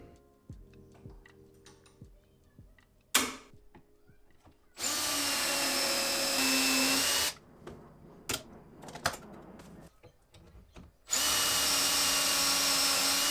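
A power drill bores dowel holes into walnut through a homemade dowel jig in two sustained loud whining runs, with clicks, taps and handling noises between them, close up and no talking.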